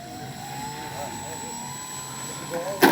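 A Dynam Tiger Moth RC plane's electric motor whines steadily in flight, a thin sustained tone that sweeps slightly in pitch, heard from a distance over outdoor air noise before a sharp closer sound at the end.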